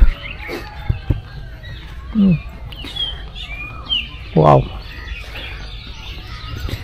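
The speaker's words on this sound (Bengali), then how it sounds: "সকালে যে পাখিদের যে কিচির মিচির এগুলো শুনতে ভালো লাগতেছে" Scattered bird chirps and short calls ring out through a quiet outdoor morning at Hathazari agricultural farm, Bangladesh, with a couple of louder nearby calls and a brief spoken exclamation.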